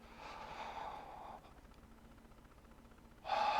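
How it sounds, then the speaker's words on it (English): Deep breath during a yoga session, a soft audible inhale and exhale through the nose, close and quiet, with a second breath starting at the end. "One more deep breath."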